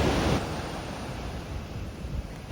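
Pacific Ocean surf at Torrey Pines beach near La Jolla, California, gives a steady broad wash of waves with a louder surge at the start, mixed with wind rumble.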